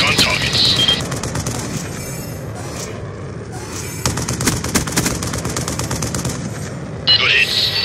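Heavy automatic gunfire from a VTOL warship in Black Ops 2 hammers in sustained bursts, loud and close, mixed with explosions and game radio chatter.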